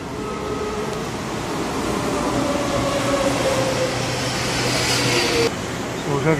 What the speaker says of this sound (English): So we're gonna get on the metro.